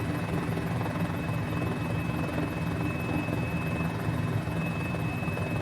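A Mini-500 helicopter in flight over Easter Island drones steadily and loudly throughout, its rotor chop and engine whine holding constant with no voices.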